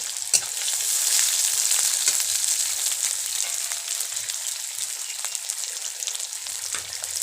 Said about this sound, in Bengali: যে পেঁয়াজটাকে ভেজে নিচ্ছে আগে মা